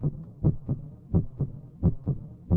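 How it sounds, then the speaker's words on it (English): A heartbeat thumps in a steady lub-dub rhythm, about three paired beats in quick succession, soft and low with no voices. "Listen to the heartbeat."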